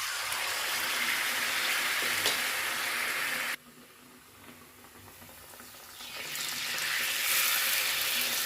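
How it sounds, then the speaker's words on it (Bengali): Bread slices coated in gram-flour batter fry in hot oil with a loud, steady sizzle that drops suddenly to a quieter bubbling, then swells back up as the frying continues. "এরকম লাল লাল করে সবগুলা ব্রেড পকোড়াগুলো ভেজে নেব।"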